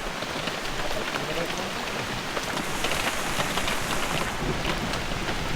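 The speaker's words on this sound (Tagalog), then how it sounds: "Ayan guys, lalong lumakas yung ulan." Heavy rain pours steadily and hard throughout a muddy outdoor roadside repair of a vehicle's wheel and torsion bar, a dense, close hiss of rainfall that grows stronger, with no clear talk over it.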